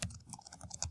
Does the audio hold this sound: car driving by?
no